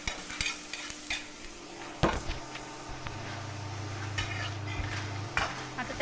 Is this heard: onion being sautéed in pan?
yes